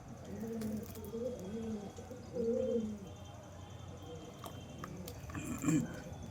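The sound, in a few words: pigeons cooing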